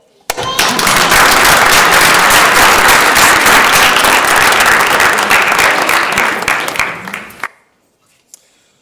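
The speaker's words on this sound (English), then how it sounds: "Now you're supposed to applaud." Senate chamber members give the Chief Justice a loud, dense round of applause lasting about seven seconds, close and sustained, then cutting off abruptly into near silence.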